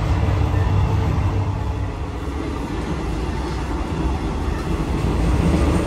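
A train in Thailand rumbles steadily along the rails, a loud continuous low roar with rattling undertones and no break throughout.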